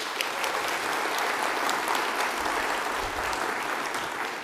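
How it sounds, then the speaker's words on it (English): A steady wash of clapping from an audience in Edmonton, Alberta at a political party leadership debate, even and moderately distant, holding at one level throughout without voices on top. "Edmonton, give yourselves a round of applause."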